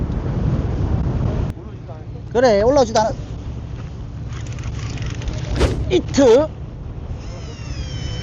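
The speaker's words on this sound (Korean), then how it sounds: "바람 소리 들리시나요? 바람이 엄청 붑니다." Strong wind roars and buffets the microphone out on open water in the East Sea during cod fishing from a boat, a constant rushing noise, while a couple of voices speak briefly over it.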